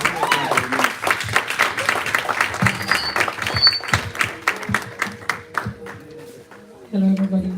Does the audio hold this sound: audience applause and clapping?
yes